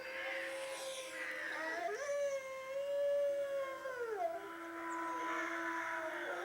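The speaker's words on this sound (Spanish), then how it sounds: "¿Oyen los perros?" A dog howls in a long, wavering tone that rises and falls, with another howl joining, fairly faint as if from some distance.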